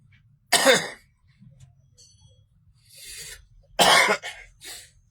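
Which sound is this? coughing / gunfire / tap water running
coughing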